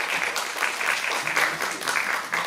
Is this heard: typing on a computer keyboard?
no